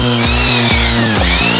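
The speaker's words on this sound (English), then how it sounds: "we're using a belt sander to simulate the years of wear and tear normal jeans succumb to" A belt sander grinds against denim jeans, a loud close motor whine with a steady buzz that dips in pitch several times as the fabric is pressed against the belt.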